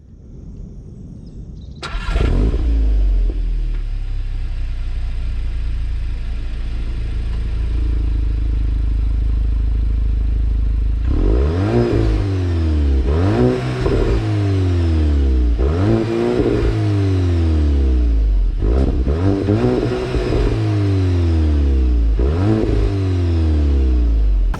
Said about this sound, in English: This is Volkswagen's 2-liter turbocharged engine